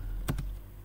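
Two quick keystrokes clatter on a computer keyboard in close succession, then stop; nearby and fairly soft against a low steady hum, with no voices.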